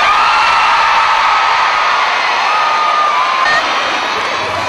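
A concert crowd cheers and shouts for a performer, a loud continuous wash of voices and whoops that holds steady throughout with no clear speech on top.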